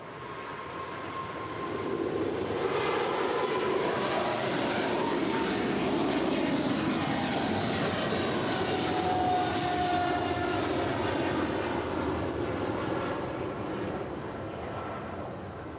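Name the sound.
Boeing 777 taking off from LAX runway 25 left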